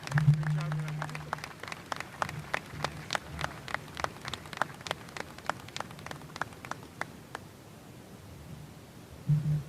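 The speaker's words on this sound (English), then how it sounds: "Let's give another round of applause for our student speakers" A high school commencement audience gives sustained applause for a student speaker, a dense run of claps that tapers off, with a voice briefly heard at the start and end.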